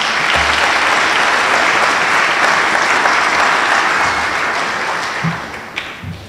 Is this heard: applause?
yes